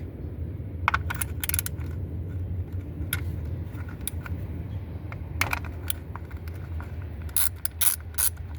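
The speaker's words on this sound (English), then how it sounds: "now we can take a 10 millimeter and go ahead and get all of these bolts out from the front and the back." A ratchet with a 10 mm socket backs out valve cover bolts on a 2015 Chrysler 200 3.6L engine, giving scattered bursts of clicking over a low steady hum, fairly close and moderately loud.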